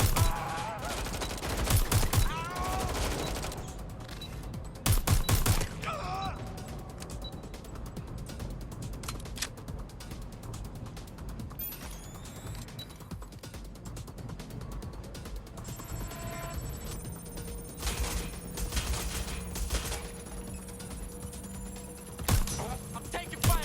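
Enemy gunfire in Watch Dogs: Legion comes as repeated sharp volleys and scattered shots. Mechanical clicks and a brief ringing tone run through the steady background, and a faint voice is heard only briefly.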